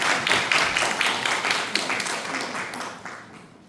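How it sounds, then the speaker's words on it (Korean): Audience applause at a Korean Democratic Party women's committee event on gender equality and women's leadership in Cheongju, a steady dense clapping that holds strong then gradually thins and fades toward the end. "뜨거운 박수 한번 부탁드리겠습니다"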